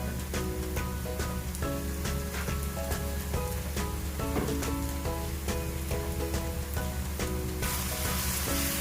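Onion and masala paste sauté on low flame in a pan for fish pollichathu, giving a continuous crackling sizzle with scattered pops and no talk.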